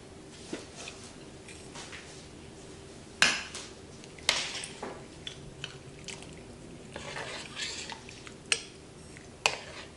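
Diced potato cubes tipped into a pot of minestrone soup with sliced carrots in a home kitchen, heard as scattered clattering knocks and clinks of pieces and utensils against the pot, with a few sharper hits among quieter rustling.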